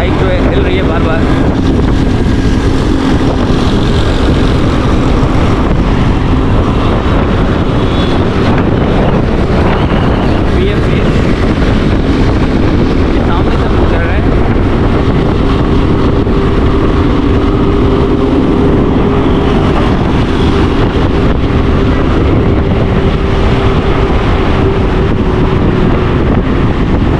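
Strong wind buffets the microphone on a motorbike ride along a street in rain, a loud, constant roaring rumble that never lets up, with faint talk buried beneath it.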